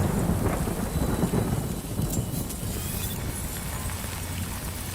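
Rain and thunder in the video game Death Stranding Director's Cut, a dense, steady hiss of rainfall with deep rumbling thunder rolling underneath, loudest at the start, then settling into continuous downpour.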